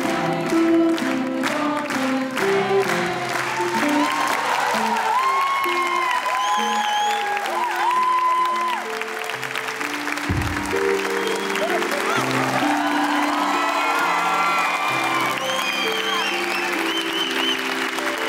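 An audience applauds steadily through a surprise celebration for actress Demet Akbağ, a dense sustained clapping with music and voices layered underneath.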